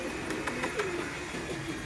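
A person imitates a pigeon's cooing, giving a soft, low, throaty warble repeated a few times at close range.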